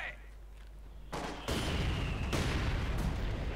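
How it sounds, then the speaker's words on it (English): Heavy mortar fire in a Company of Heroes 2 2v2 match lands as a few heavy booms in quick succession, each a sudden blast that lingers over a continuous low battlefield rumble. "The heavy mortar fire rocketing the centre."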